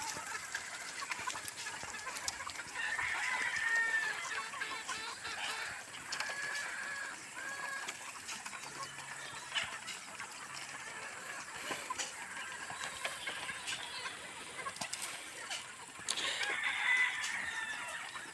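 Chickens and stags cluck and crow in a yard, with several rooster crows rising over steady clucking and faint background noise.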